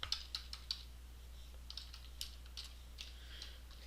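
Computer keyboard keys are tapped while typing code, sparse irregular clicks, some in quick bursts and others spaced apart, fairly close but quiet over a low steady hum, with no talking.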